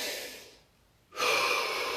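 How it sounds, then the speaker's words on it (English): Slow, deep breathing during seated meditation: a soft drawn-out exhale fades to near silence, then a fuller, stronger breath rushes in, close and clear. "I'm breathing more freely."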